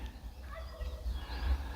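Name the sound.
turkey gobbling at a neighbor's farm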